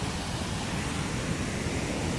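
Brooks Falls waterfall in Katmai National Park, a dense, steady roar of rushing water, constant and fairly loud, with no voices.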